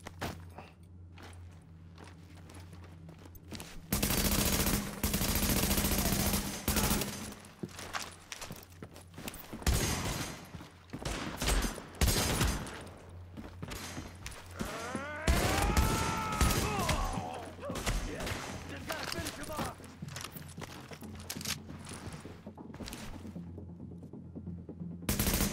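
Gunfire from an inaccurate gun in the video game The Division, heard as scattered bursts and single shots spread across a long stretch of game ambience, with footstep-like clatter in between.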